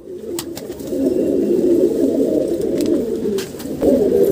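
Captured pigeons coo in a steady, low, murmuring stream that runs unbroken for several seconds, fairly close and with no talking.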